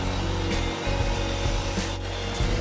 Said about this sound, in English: I can then sand down all the drawers.